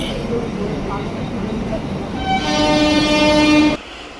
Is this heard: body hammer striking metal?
no